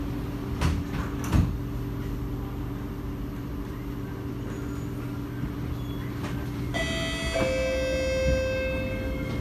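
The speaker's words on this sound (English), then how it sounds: "doors are closing." A Singapore MRT North-South Line C751B train at the platform, its doors sliding shut with a short burst of closing tones and a faint thump, over the steady hum of the carriage.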